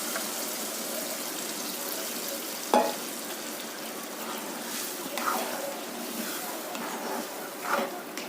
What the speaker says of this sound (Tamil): இப்போ நல்லா கொதிக்கட்டும்.